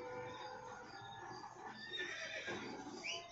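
A horse in the Red Dead Redemption online video game whinnies faintly within a busy, low-level game soundscape, with a rising neigh near the end.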